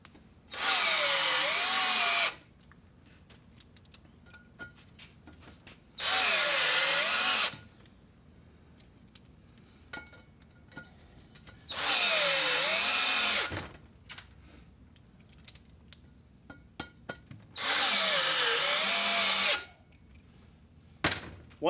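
Power drill driving screws into wheel beadlocks while slicks are being installed, four loud bursts of about two seconds each separated by quiet pauses, each whirring up and slowing as the screw seats.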